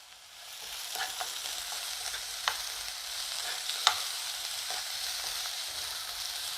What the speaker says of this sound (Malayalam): ഒരു ചെറിയ പച്ചമുളകും പൊടിയായിട്ട് അരിഞ്ഞ് വെച്ചാണ് കേട്ടോ അതും കൂടെ ചേർത്ത് നമുക്ക് നന്നായിട്ടൊന്ന് വഴിക്കാം